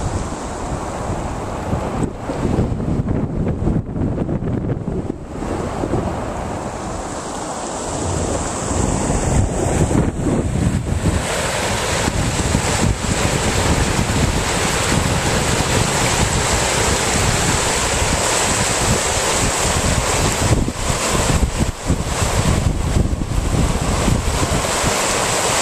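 Heavy floodwater rushes over a road and through a culvert near a country club, a steady broadband roar throughout with wind buffeting the microphone and no voices.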